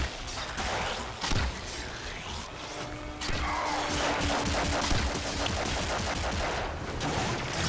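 Gunfire in the Warframe video game, rapid bursts of shots with sharp crashing impacts over a dense, noisy game soundscape, fairly loud and continuous.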